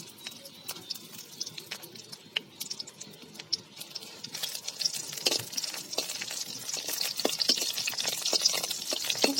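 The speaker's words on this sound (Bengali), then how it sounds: "সামান্য তেল দিয়ে যে শুকনো মাছগুলো ভেজে নেব ভর্তা করার জন্য" Dried fish frying in a small amount of oil in a wok, a soft irregular patter of crackles and sizzling pops that grows busier and louder over time.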